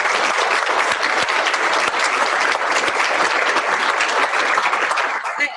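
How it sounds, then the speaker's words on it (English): An audience bursts into sustained, dense applause for Nadia at a talk, many hands clapping loudly and evenly for several seconds before it begins to thin out at the end. "So let's give Nadia a hand."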